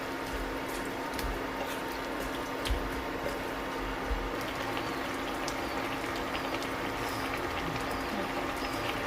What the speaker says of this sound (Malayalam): ഇപ്പം നന്നായിട്ട് തിളച്ചിട്ടുണ്ട്.